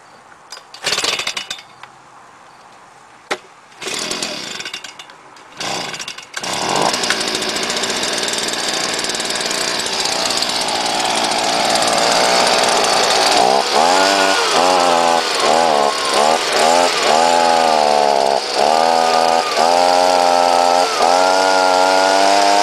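Stihl FS 110 string trimmer engine after a muffler fix: a few short pulls and sputters, then a steady loud idle that revs up and down repeatedly, close by.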